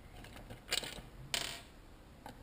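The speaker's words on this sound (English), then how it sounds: "Just taking off the magneto cover." Small metallic clicks and clinks ring out faintly as the magneto cover and its bolts come off a Yamaha YZ125 two-stroke engine, with a few brighter scraping taps in a quiet room.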